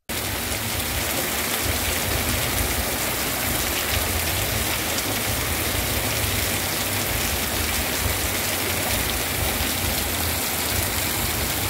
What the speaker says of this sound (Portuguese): muita água e lama estavam descendo